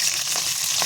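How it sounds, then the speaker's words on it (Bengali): Fish frying in a pan until browned, a steady close sizzle of hot oil with faint stirring crackles throughout, no voices. "মাছগুলো পুরো একদম ভালো করে ভাজতে হবে, লাল লাল করে"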